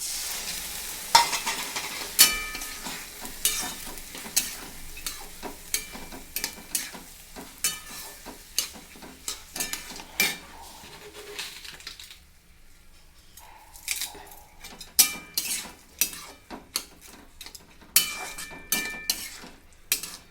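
A spoon stirs sprouted moth beans with turmeric and masala in a frying pan, making steady repeated scraping strokes over a soft sizzle, close up with no talking.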